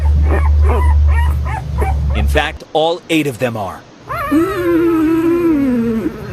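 Eight very young puppies, left without their mother in Tinton Falls, yip and whimper, then let out a long, wavering high howl up close. A reporter talks over the first half.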